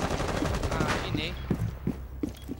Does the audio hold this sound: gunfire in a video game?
yes